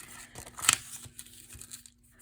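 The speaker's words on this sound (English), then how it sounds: "I think I'm just gonna tear a piece" Paper for a junk journal is torn by hand in one quick rip, followed by faint crinkling rustles in a quiet room.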